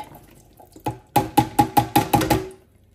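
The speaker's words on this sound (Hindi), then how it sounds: "स्वीट कॉर्न्स का हम पानी ड्रेन कर लेंगे," Water from canned sweet corn being drained, a short run of quick rhythmic splashing pours and drips, close and fairly loud, with quieter trickles before.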